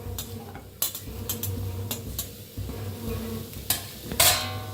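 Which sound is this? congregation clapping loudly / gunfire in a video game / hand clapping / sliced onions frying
sliced onions frying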